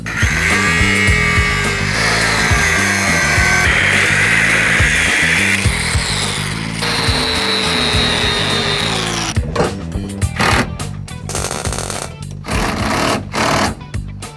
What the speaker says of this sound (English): We're gonna have to cut and weld this floor bracket and make it lower.